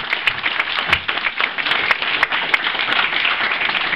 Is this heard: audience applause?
yes